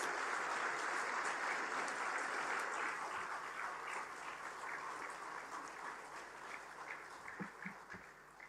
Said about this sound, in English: Can we have a huge round of applause for all the teachers, please?